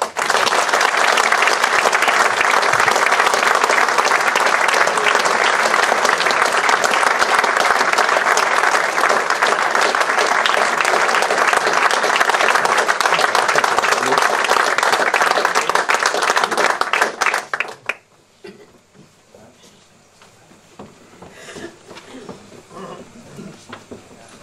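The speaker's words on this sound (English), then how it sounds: "I think it deserves a massive round of applause" An audience at a football club's award presentation claps in a sustained, loud round of applause for about seventeen seconds, then it cuts off abruptly into quieter room sound.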